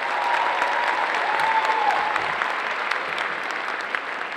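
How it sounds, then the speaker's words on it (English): A crowd at the 2019 Planet Comicon cosplay contest gives the contestants a sustained round of applause, thick and even clapping at a loud, near level for several seconds, tapering slightly at the end. "let's give them a round of applause for that"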